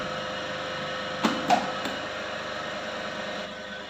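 An asynchronous squirrel-cage induction motor running in delta connection on a lab test bench gives a faint, steady low hum, with a few sharp switching clicks near the start.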